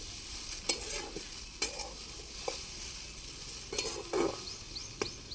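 Okra fries in a pan with oil, garlic and salt, a soft continuous sizzle punctuated by several sharp spoon-stirring scrapes against the pan at irregular intervals.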